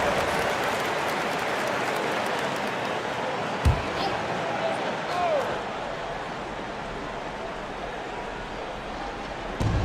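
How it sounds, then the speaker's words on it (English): A crowd at a Memphis versus Milwaukee basketball game applauds during a timeout, a steady broad wash of clapping and arena noise with a couple of brief thumps and a whistle-like tone. "Get yourself a round of applause"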